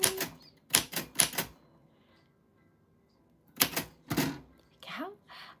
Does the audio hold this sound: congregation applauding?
no